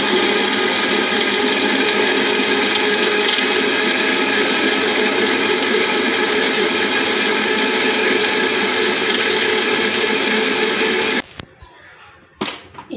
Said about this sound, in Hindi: लहसुन अदरक को और टमाटर को हम ग्राइंडर कर लेंगे।